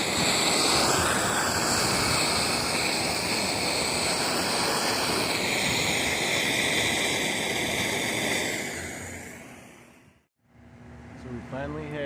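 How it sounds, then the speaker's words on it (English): Loud, continuous roaring wind buffeting close by during an outdoor combustion experiment for several seconds, then cutting out abruptly before faint talking begins. "but it's super windy"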